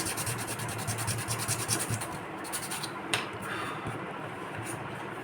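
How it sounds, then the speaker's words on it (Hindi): Sandpaper rubs back and forth against a handmade model locomotive bogie for a WDP4/WDG4 EMD engine, a close rhythmic scratching that grows more irregular, with one sharper scrape midway. "थोड़ा सा और घिस देते हैं"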